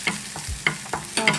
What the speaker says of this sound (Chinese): 闻到香味后，加入辣椒干